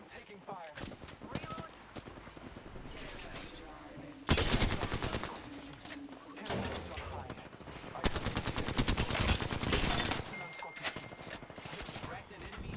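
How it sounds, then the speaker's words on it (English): Automatic weapons fire in the Apex Legends battle royale shooter, sustained rapid bursts and fusillades close and loud, broken by brief pauses, with a voice speaking in between. "I am taking fire."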